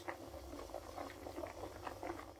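Broccoli cheddar soup in a pot coming up to a boil, giving a steady, soft bubbling and popping that continues evenly throughout at low volume.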